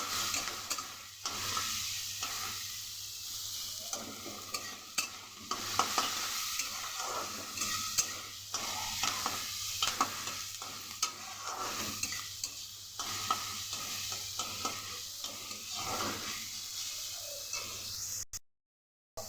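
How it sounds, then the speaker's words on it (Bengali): Vegetables for chowmein stir-fry over a high flame with a steady sizzling hiss, broken by repeated rhythmic scrapes and tosses of a utensil against the pan. No talking is heard. "আর একদম হালকা করে ভাজবো, কারণ চাইনিজ রান্নায় বেশি ফ্রাই হয় না।"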